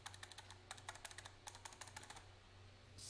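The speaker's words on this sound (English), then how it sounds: "there's an oddly satisfying like clicking sound" Keys on a Razer Tartarus mecha-membrane gaming keypad clicking in quick bursts of crisp taps, with short pauses between runs, close to the mic over a low steady hum; no talking.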